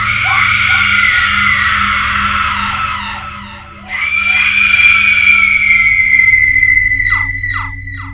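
A woman's long, loud, sustained scream, breaking briefly and then resuming, with shorter shrieks at the end over a low background rumble.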